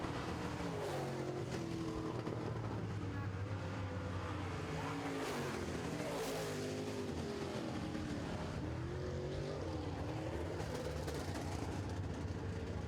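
Late model race cars roaring around a racetrack toward the finish line of a feature race, a dense, continuous engine roar with rising and falling pitch, heard from a distance.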